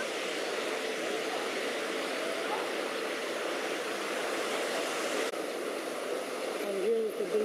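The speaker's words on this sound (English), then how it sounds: "So here we can have another look at this little spread of fountains." A spread of fountains in Berlin splashes in a continuous, broad rushing wash of falling water, fairly loud and steady throughout, with faint outdoor noise in the background.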